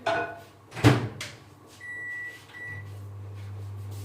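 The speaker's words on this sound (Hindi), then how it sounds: "ये इसको मैं अभी माइक्रोवेव में रख देती हूँ ताकि ये पिघल जाए।" A door thuds shut, buttons beep, then a microwave oven starts its low, steady hum that continues to the end while melting food.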